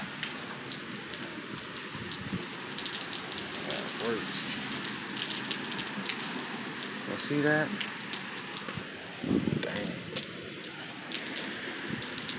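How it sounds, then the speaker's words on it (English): Steady rain falls outside at night in Houston, a constant hiss running under someone talking at work, with a couple of brief louder bursts breaking through. "It's a rainy day outside."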